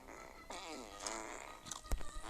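A comical fart effect plays in a multiplayer video game. A wobbling, buzzy blurt lasts about a second, followed by short sharp bursts, with players' voices heard faintly alongside.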